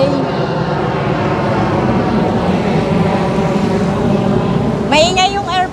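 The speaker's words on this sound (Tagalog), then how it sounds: "Maingay yung airplane." An airplane passing overhead on a street gives a loud, steady roar that fills the whole stretch, with a short burst of high whistling or chirping near the end.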